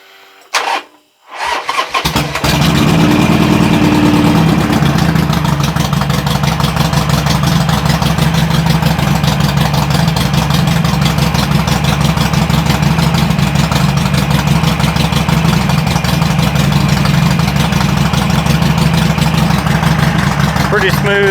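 A 2007 Harley-Davidson 883 Sportster motorcycle engine cranks and catches after a brief start, then settles into a loud, close, steady idle with an even low rumble that holds to the end.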